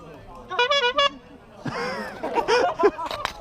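A car horn honks in a few quick toots, followed by a person talking loudly nearby.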